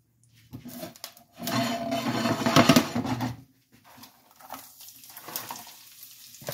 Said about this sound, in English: Saute the cabbage first.